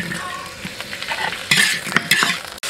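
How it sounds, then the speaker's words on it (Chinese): Chinese cured pork (larou) stir-fried in a wok, sizzling close up with quick scraping strokes of a spatula and metallic clinks against the wok, growing louder and busier in the second half of a short burst. "此时这个腊肉是越煸越香"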